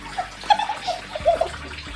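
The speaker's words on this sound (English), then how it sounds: "you just fill your cup up with water, you find the little hole, and you precisely fill it in" Water is poured from a cup into a small hole in a neglected car being serviced, giving a few brief, close splashes and trickles in short bursts.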